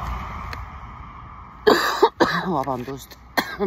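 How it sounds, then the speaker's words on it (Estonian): Coughing erupts in a dust cloud after a quiet stretch: a few harsh, close bursts followed by throaty, voiced hacking, with one more short cough near the end. "istun tolmupilves ja köhin"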